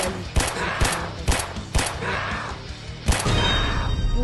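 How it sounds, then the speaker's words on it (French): An automatic turret in a video game fires in loud, sharp bursts of gunfire, several heavy shots spaced roughly half a second apart with a ringing, clanging tail and a dense background of game noise. "j'espère qu'elle va pouvoir l'entendre la tourelle"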